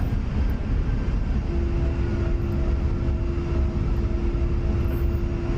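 An A-10 jet in a DCS flight simulation drones steadily on its landing approach, a loud, continuous engine roar with a faint steady whine, uninterrupted and without voices.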